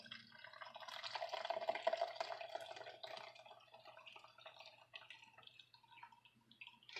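Loose-leaf chai tea poured through a fine mesh strainer into a glass, a steady trickling and dripping stream at close range with no talking.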